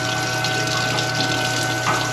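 Hot water runs steadily from a kitchen tap at a cook's line island during a makeover, a loud continuous gush with a faint pump-like hum underneath and no talking.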